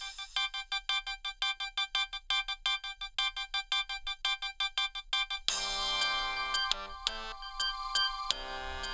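A Windows flip phone plays a sideloaded song through its small speakerphone, a thin, tinny, electronic melody of rapid repeated beeping notes shifting into fuller chordal tones midway, alone and fairly close.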